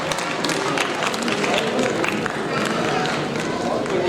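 An audience claps together at an award ceremony honouring an artist with a turban-tying felicitation, a dense, even round of applause from a crowd.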